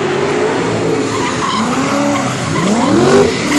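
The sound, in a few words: drift car skidding at a drift show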